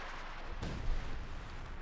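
A howitzer shot from the Company of Heroes 2 war game booms once, a loud low thump about two-thirds of the way through, then rolls on as a rumbling tail over steady battle ambience.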